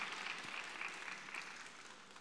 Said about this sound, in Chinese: 大家给点掌声